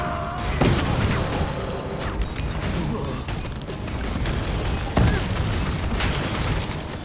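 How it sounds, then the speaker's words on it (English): Heavy cannon booms and crashing impacts thud repeatedly over a dense, rumbling battle din in the video game Guild Wars 2, with sharper blasts standing out near the start and middle. "Cannons are still firing."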